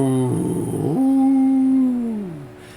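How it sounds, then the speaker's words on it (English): A single drawn-out howl carries over a town, rising from a rough, strained start into a long tonal wail that slowly falls away, loud and alone. "And in the distance, you hear howling amongst the town."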